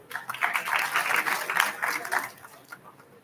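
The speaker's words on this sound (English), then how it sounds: "Please give a round of applause" An audience at a college alumni meet claps in a round of applause, a dense patter of hands that rises quickly, holds for about two seconds and then thins out and fades.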